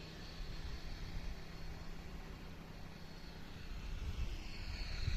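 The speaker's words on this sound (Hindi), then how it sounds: "और उस साइड आ रही है ट्रैक्टर की आवाज़" A distant tractor engine working a village wheat field in the hills: a faint, steady low rumble with a constant drone, far off and unchanging, over quiet open-air background.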